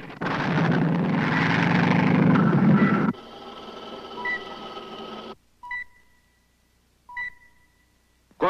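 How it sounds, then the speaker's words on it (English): A light civilian plane in trouble in a 1957 film, a loud roaring engine drone for several seconds that drops to a thinner hum, followed by isolated electronic beeps and near silence. "Light civilian plane coming in at 190 degrees appears to be in trouble."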